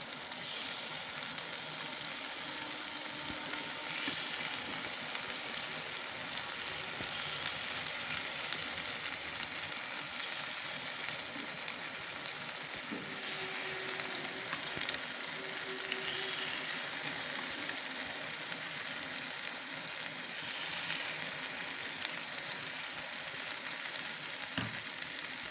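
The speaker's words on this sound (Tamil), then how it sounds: "இப்போ நம்ம ரவை குழி பனியாரத்தை இதில் ஊற்றி எடுத்துக்கலாம்." Rava kuzhi paniyaram batter sizzling in hot oil in a pan, a soft, continuous crackling hiss that stays steady and fairly quiet throughout, with no voices.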